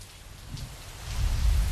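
Steady rain falls in a dense, even hiss, with a low rumble that swells toward the end.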